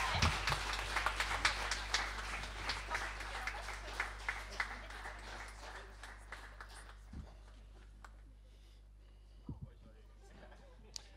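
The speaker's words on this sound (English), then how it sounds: "just give them a real round of applause." Audience applause at a law school graduation ceremony fills the first half, dense clapping that thins out and fades, leaving a few scattered claps near the end.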